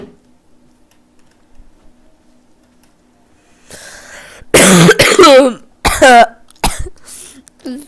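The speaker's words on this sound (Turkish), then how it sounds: "Bak ben Öksürük tutulması vardır bende." A person has a coughing fit during a Minecraft session: after a few seconds of near silence, a series of harsh, close coughs comes in irregular bursts, several in quick succession, with a faint throat-clearing rasp.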